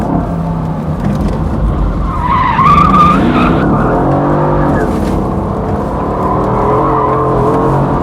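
A Mercedes AMG GT S with its V8 engine slides with traction control off, tires squealing loudly over a rising, revving engine note, close and continuous.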